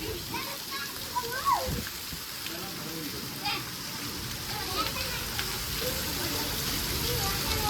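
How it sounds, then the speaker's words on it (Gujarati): Very heavy monsoon rain pours down in a village in Banaskantha district, Gujarat, a dense, constant roar of water with faint voices now and then behind it. "બહુ ભયંકર વરસાદ"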